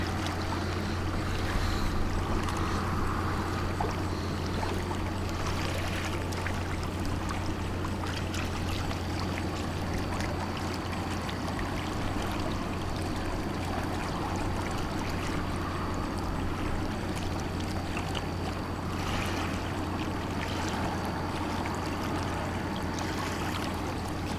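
Propeller wash from the freighter James R Barker churns the St. Mary's River as the ship turns upbound. A steady, continuous rushing and bubbling of water sits over a low engine hum, with no talk.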